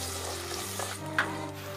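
Ground gravy paste for Rayalaseema stuffed brinjal curry sizzles and fries in a pan with mustard seeds and curry leaves while it is stirred, a steady close hiss with a brief scrape near the end.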